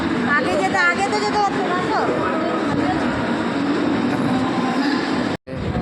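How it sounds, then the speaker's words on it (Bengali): A commuter train rolls into a station with a loud, continuous rumble, squealing wheel and brake tones rising and falling, and people talking over the noise on the platform. "এই ট্রেন ঢুকে গেছে, এবার ট্রেনে এবার চাপবো"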